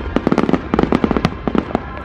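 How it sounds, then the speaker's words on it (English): Rapid bursts of fireworks popping and crackling in quick succession, a dense, irregular string of sharp bangs with a low rumble underneath, fairly close and loud. "I got to see some fireworks."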